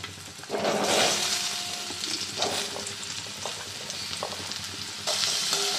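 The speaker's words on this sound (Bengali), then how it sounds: "এতে এবার আলুগুলো দিয়ে দিচ্ছি, লম্বা করে কাটা আলুগুলো দিয়ে দিচ্ছি" Long-cut potato slices hitting hot oil with salt and five-spice, a loud dense sizzle that surges on entry and keeps up a steady frying hiss, with occasional stirring, no speech.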